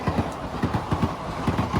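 Seshadri Express train passing at a crossing, heard close as a loud rhythmic clatter of wheels over rail joints in quick repeated beats under a steady rumble.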